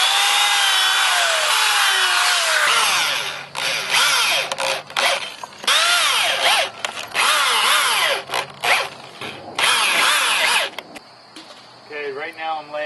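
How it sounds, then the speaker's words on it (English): Power drill boring pilot holes into wooden posts while framing a greenhouse, with loud whining bursts that rise and stop repeatedly, separated by short pauses. "A couple pilot holes so the screws don't crack our wood."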